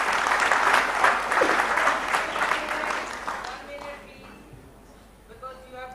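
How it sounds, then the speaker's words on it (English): Audience applause for a panel of eminent speakers at a sustainability education plenary session, a dense, loud burst of clapping that gradually fades and thins out toward the end, with a few scattered voices. "So let's have a round of applause for all the eminent panelists over here."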